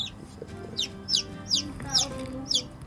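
Newly hatched Rhode Island Red chicks in an incubator peep in high, rising chirps, about six evenly spaced calls close up, over a steady low hum of background noise.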